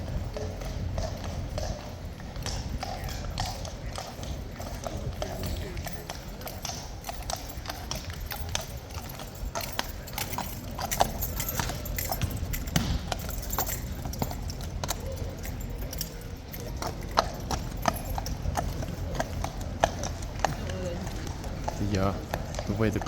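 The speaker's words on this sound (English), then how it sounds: "One of the horses clopping about." Horses in their boxes at a Horse Guards setting, hooves clopping in a steady, irregular patter at close to moderate distance, with crowd noise in the background.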